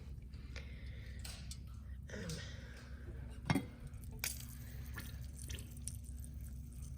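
Melted tallow drips and trickles through open-weave linen during straining, a soft wet patter with one louder splash midway, close and quiet.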